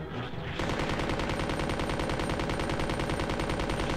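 Rapid, continuous automatic gunfire from a weapon in the PS1 video game Resident Evil 2, loud and steady after a brief quieter lead-in, rattling on without pause.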